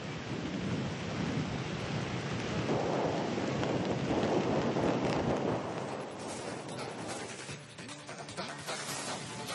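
Heavy monsoon rain pours steadily in Mangaluru, with a dense, continuous roar and a low rumble of thunder that swells in the middle and then eases, close and loud, with no voices.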